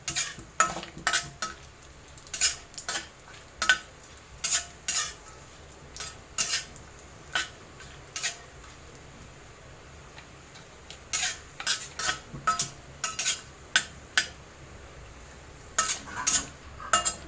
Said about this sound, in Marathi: हे काजू टाकायचे चांगले तुपामध्ये असे परतून घ्यायचे